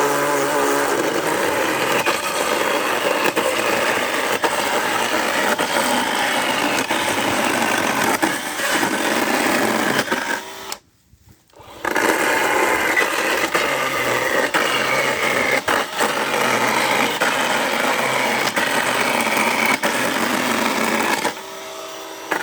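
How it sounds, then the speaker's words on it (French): A Parkside chainsaw cuts Euro pallets into firewood, its engine holding a loud, steady buzzing drone that cuts out for about a second midway, then resumes at full strength. "je vais le tester avec la tronçonneuse"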